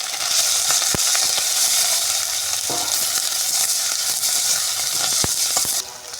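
Cumin paste and chopped tomato fry in a pan for a new-potato curry, a steady close sizzle with scraping stirs and a few sharp clicks, running alone without talk.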